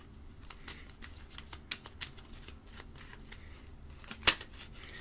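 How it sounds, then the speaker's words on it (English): Tarot cards flip and shuffle with a run of quiet, crisp papery flicks and taps spaced irregularly, plus one sharper snap near the end and no talking. "My cards are flipping."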